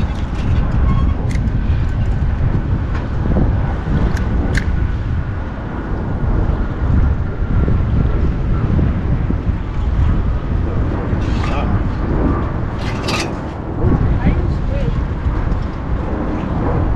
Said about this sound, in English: The wind picking up a little piece.